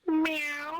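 A person imitates a cat's meow in an online game lobby, giving one clear, close, drawn-out meow with a rising start and a sustained tone.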